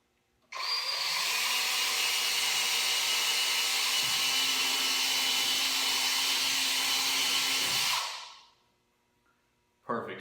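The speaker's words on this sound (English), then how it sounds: "I'm going to drill the hole where I want it to go through at." Power drill boring a hole through a kayak hull, a loud steady whir that runs continuously for about seven seconds, then winds down and stops before a brief restart at the very end.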